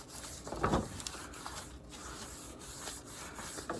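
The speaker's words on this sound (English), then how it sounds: "I'm using some weathered gray stain with the brush to wipe it on, and then a clean rag to wipe off the excess." A clean rag wipes excess weathered gray stain off distressed wood, with one brief, faint rubbing burst early on, then quiet, low-level scuffing.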